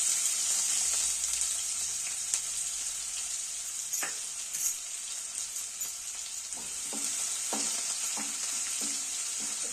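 Cumin seeds and five or six curry leaves sizzle steadily in hot oil for a cauliflower stir-fry, a continuous bright hiss with a few soft clicks and crackles from the pan near the end, no voices.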